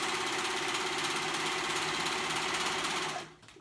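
A serger sewing machine stitches elastic onto children's pajama pants in a fast, steady mechanical whir, close and continuous for about three seconds before it stops.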